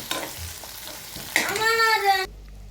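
Broad beans frying for a South Indian poriyal in a home kitchen sizzle and crackle for about two seconds, with stirring scrapes, before the sound cuts off abruptly.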